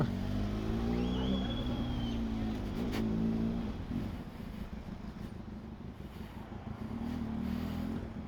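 A motorcycle engine idling low and steady, with a couple of brief throttle blips rising in pitch before settling back to a rumbling idle.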